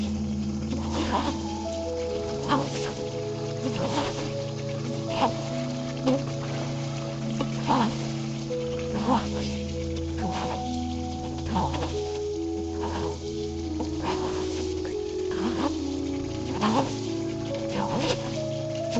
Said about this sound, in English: you just keep on mixing it for 5 minutes in high heat